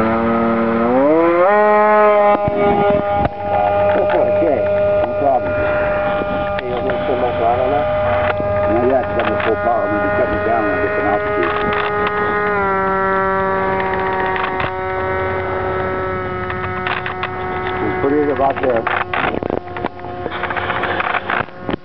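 The electric motor of a Bixler RC model airplane spins up as the throttle is worked, with a loud rising whine that steps up and down through several speed changes and hums steadily in between.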